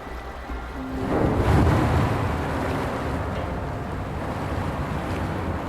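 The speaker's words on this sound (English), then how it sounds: "The water level just dropped again." Water level sinking in the Wuthering Waves video game: a steady, dense rushing and rumbling of draining water that swells after about a second, then holds on evenly to the end, with no voices.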